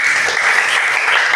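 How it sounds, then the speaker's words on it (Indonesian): A class of students clapping together in a dense, loud, continuous burst of applause, close and unbroken. "Tepuk tangan bagi kalian semuanya."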